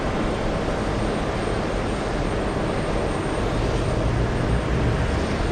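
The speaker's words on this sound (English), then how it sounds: "We have the American Airlines 737." An American Airlines Boeing 737 departing JFK airport makes a loud, steady jet engine roar with a deep rumble underneath, sustained without any voices.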